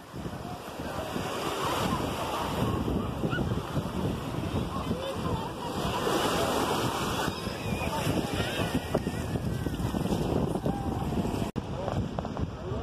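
Surf rolling onto the beach at Porto de Galinhas, a steady continuous wash of waves with wind buffeting the microphone throughout, loud and close, with no speech over it.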